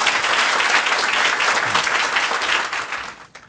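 Audience clapping welcoming a guest at a business event, dense and lively from a crowd, fading out at the end.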